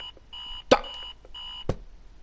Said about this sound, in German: Radiowecker, Alarm.